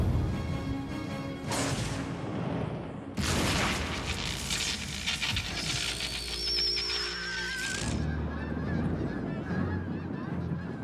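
Canada geese honk repeatedly at an airport amid a dense, roaring wash of sound, with deep booming swells rising and falling throughout before easing off near the end.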